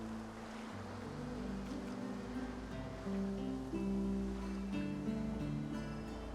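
Ocean waves wash and roll in Divinity: Original Sin 2, a steady surf with wind under low, sustained musical tones, holding at an even, moderate level.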